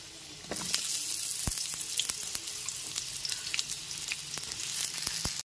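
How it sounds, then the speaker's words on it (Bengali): Pieces of pointed gourd go into a pan of potatoes frying in oil over a medium gas flame, giving a steady, close sizzle with a brief clatter as they drop in. "এরপর এর মধ্যে দিয়ে দিচ্ছি কেটে রাখা পটলের টুকরোগুলো"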